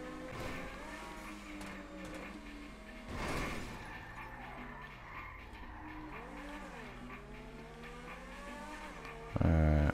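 A Grotti XR-80 supercar in GTA V revs and accelerates with rising and falling engine tones, tires squealing through turns, ending in a loud burst near the close.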